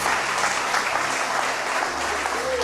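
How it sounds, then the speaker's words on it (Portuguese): A church congregation at Igreja Batista da Lagoinha applauding, a dense, even wash of clapping from many hands filling the room for a few seconds. "Você pode aplaudir Jesus."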